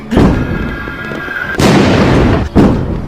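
Explosions in the horror video game Letters of Bernard Thorne: a loud, close blast with a rumbling tail, then a second burst and a third shorter one, no talk over them.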